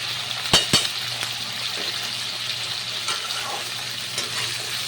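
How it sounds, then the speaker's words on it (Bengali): Cauliflower and potatoes fry with salt over a medium gas flame, a steady broadband sizzle running throughout with a couple of sharp clinks near the start. "গ্যাসের ফ্লেমটাকে মিডিয়ামে রেখে বেশ কিছুক্ষণ ধরে কিন্তু ফ্রাই করে নিতে হবে"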